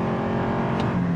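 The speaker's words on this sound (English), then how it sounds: "we'll go ahead and brake torque it here and we'll see what we can get" A 2023 Toyota Prius Prime plug-in hybrid launching hard from a brake-torqued standstill with traction control off, giving a steady, loud engine and road drone heard close from inside the cabin with no voices.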